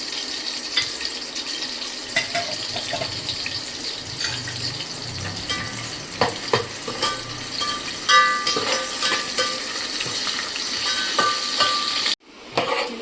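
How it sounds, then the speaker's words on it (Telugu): Gongura leaves sizzle and fry in a pan while being stirred, a steady broadband hiss with scattered scraping clicks of the spoon and a brief cut near the end. "కొంచెం లైట్ బ్రౌన్ కలర్ వచ్చేంత వరకు వేయించుకోవాలండి."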